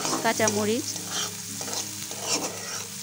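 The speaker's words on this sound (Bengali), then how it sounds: "ভালো করে একটু নেড়ে চেড়ে দেব, কষিয়ে নেব একটু ভালো করে" Spatula stirs and sautés a masala with egg in a pan for pasta noodles, giving brief scraping squeaks early, then a steady close sizzle with soft clatter throughout, with no voices.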